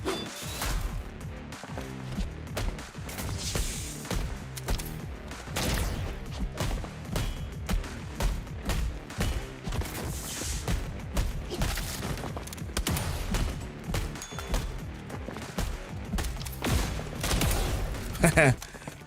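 Dense video-game gunfire in a fight against corporate organ harvesters, with bullets reflected back at enemies: rapid repeated shots and impacts at steady loud level through the whole stretch, with a voice talking over the action.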